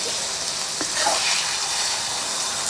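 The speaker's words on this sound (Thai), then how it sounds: "ทอดไข่ใส่ชะอมค่ะทุกคน" Thai omelette with cha-om acacia leaves frying in a pan, a steady bright sizzle throughout with a brief utensil tap near the start, close and fairly loud with no talking.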